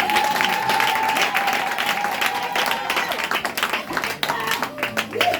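A church congregation applauding during a service, loud sustained clapping from many hands filling the room, with a voice carrying over it at the start.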